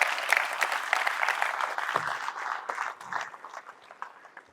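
Crowd at a motivational talk bursts into applause, a dense wash of clapping that starts strong and gradually thins and fades toward the end.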